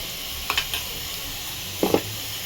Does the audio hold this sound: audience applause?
no